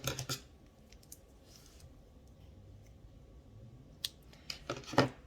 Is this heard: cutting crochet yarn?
yes